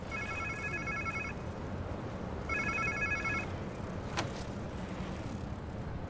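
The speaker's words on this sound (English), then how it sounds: "Sounds like somebody's phone." A phone rings in the Spider-Man 2 video game, two bursts of electronic trilling ring separated by a pause, over a continuous rumble of street ambience, fairly loud.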